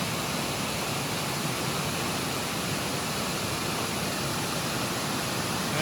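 A secluded private waterfall at sunset, its steady broadband rush of falling water continuous and fairly close, with no voices or other sounds breaking through.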